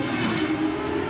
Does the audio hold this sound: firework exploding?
no